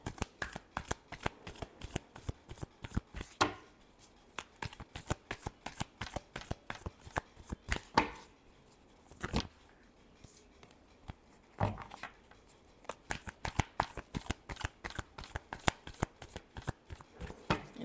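Tarot cards being shuffled close up, a long run of quick crisp riffling flutters in bursts with brief pauses between, no talking.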